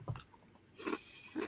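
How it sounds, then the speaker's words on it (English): Ice being chewed close to a microphone during a podcast, with a few soft crunching bites spaced over a short, quiet moment and no talking. "I'm chewing ice."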